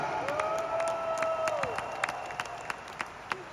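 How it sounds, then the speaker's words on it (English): An audience applauds its Freeway leaders at a team gathering, a crowd clapping steadily that thins into scattered individual claps, with a sustained musical tone sliding underneath at the start. "Can we give our Freeway leaders a round of applause today?"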